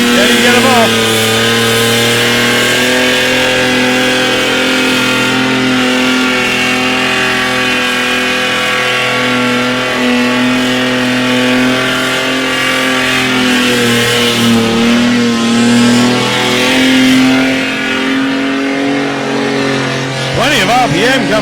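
Drag racing car engine revving hard at a street drags event, loud and close with rising and falling harmonic sweeps as it pulls through the gears, a race commentator talking over it.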